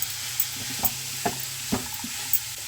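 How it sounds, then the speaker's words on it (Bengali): Mixed vegetables such as green beans hiss steadily in lightly heated oil, with a spatula scraping and knocking the pan at regular intervals over the constant sizzle. "তেল আমাদের গরম হয়ে গেছে হালকা, এবারে আমরা সবজিটা ছেড়ে দিচ্ছি।"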